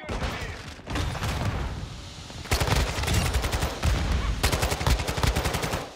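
Kastov 545 assault rifle fire in Modern Warfare 2, long sustained automatic bursts with a brief pause near the start and a slight break mid-clip, loud and close, with no talk.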